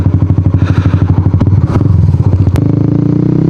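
A Honda Winner X 150 motorcycle rides along, its engine putting out a steady, loud, rapid pulsing drone that rises in pitch near the end, with a few clattering knocks.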